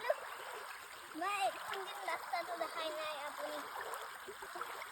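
Water gurgles and splashes as a family wades across a small river, a soft, continuous burble under several people talking.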